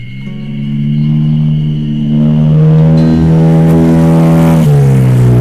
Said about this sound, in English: Lots of motorcycles and fancy sports cars.